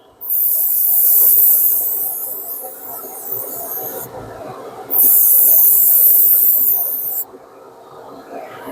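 Two loud bursts of spray paint hiss as a heavier coat of silver paint goes onto a test spoon for a Chrysler 300 colour trial, each burst lasting a few seconds with quieter gaps between.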